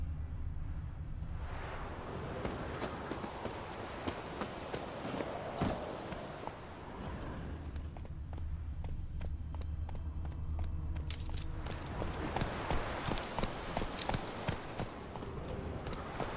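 Horse hooves clip-clopping on a trail in The Witcher 3: Wild Hunt, a steady run of hoofbeats at close range that carries on for the whole stretch, with low ambient game sound underneath.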